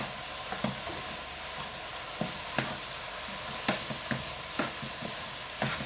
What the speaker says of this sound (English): So, just stirring this all around here, browning my meat